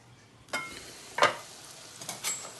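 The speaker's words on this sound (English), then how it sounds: "Now my veggies are starting to saute up nicely" Vegetables sauté in a pan during a braised beef dish with mushrooms and onions, a faint steady sizzle broken by several sharp scraping stirs.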